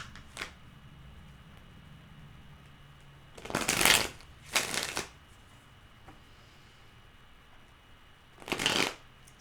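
Tarot-style cards are shuffled for a reading in a few brisk riffling bursts separated by quiet pauses, close and crisp against a faint room hum.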